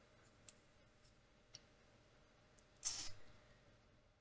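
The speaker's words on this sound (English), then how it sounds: "I'm going to spray it towards the air purifier" A single short hiss of aerosol spray aimed at a Scentsy air purifier, about a quarter second long, bursts out clearly against a quiet room, preceded by a couple of faint ticks.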